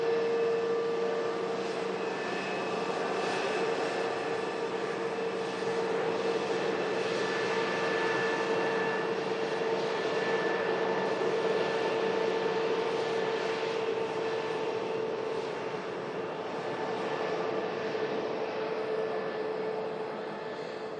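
A Royal Jordanian Boeing Dreamliner jet arriving at Manchester Airport, heard as a steady, loud engine roar with a sustained whine, holding level for about twenty seconds with no voices.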